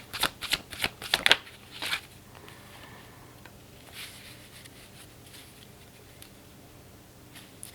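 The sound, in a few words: shuffling tarot cards to draw one last card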